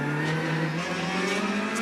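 Touring race car from the TCR Australia series, number 18, racing at Winton on its final lap with a damaged front windscreen, its engine droning loudly and steadily up close with a rising tone throughout.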